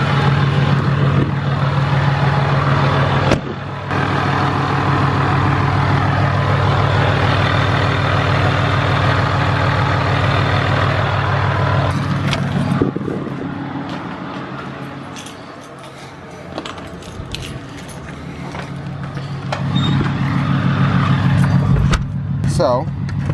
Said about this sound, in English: you get some of the outside gear rollover noise here